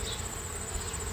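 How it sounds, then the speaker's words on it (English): Angry honey bees swarm around an opened hive during a fall inspection, making a dense, steady, close buzz that holds without a break and with no talking. "I've already got some bees that are getting angry at me."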